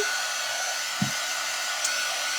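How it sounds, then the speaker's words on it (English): A heat drying tool blows over wet paint on a fall craft sign, giving a steady, loud whooshing roar throughout with a couple of faint clicks. "We're going to dry it up just a little bit with my heat dry tool, quick dry tool, just to speed it along."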